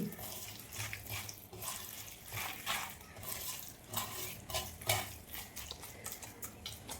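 Water splashes and gurgles steadily into a pan of mango for a sardine dish, a continuous watery pour with light clinks and stirring noises close by.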